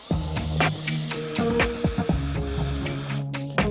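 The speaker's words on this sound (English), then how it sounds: "Let's use a power tool." A power tool removing long screws from the bumper of a Floatwheel ADV2 board whirs in short bursts, its motor pitch rising and falling as it starts and stops, close by with no talking.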